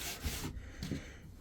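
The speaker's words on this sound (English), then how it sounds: "I'll run the sanding block over this corner, just take the abyss off. Just a light sand." A sanding block rubs lightly over the corner of a reclaimed wooden door joint, giving a soft, close scratchy hiss in uneven strokes that swell and fade, with no voices.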